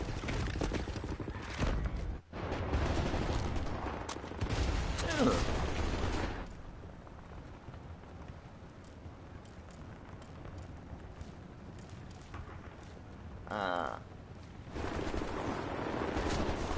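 Suppressing cover fire in the shooter game Wolfenstein: The New Order: loud, dense bursts of automatic gunfire roll continuously for several seconds, ease off into a quieter stretch, then return as heavy rattling volleys near the end.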